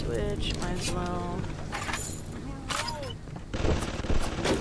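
Bursts of gunfire in the video game Bioshock Remastered, with sharp rapid shots and booms mixed with tonal game sounds and a voice talking over them.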